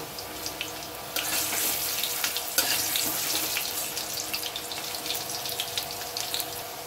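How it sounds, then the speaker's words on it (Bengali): Potatoes sizzle and crackle steadily in hot mustard oil, the hiss jumping louder after a second and staying busy with sharp spitting pops. "এভাবে লাল লাল করে আলুগুলো ভাজতে হবে"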